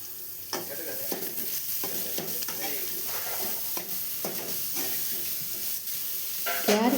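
Grated carrot is stirred and fried in a pan, giving a quiet continuous sizzle broken by repeated scraping strokes of a spatula, close and fairly faint, with no talking.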